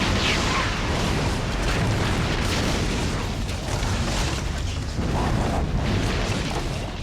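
Barn shed blown up in the horror film Night of the Scarecrow: a sustained, loud, dense roaring blast and rumble that fills the whole stretch without letup, no voices.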